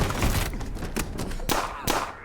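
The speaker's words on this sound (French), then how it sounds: "Ah, les deux coups de feu" Gunfire in a video game: several sharp shots ring out over a noisy, busy game soundscape, with two especially distinct cracks near the end, close and loud.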